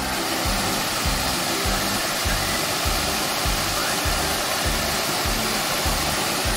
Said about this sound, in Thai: มีใบพัดหมุน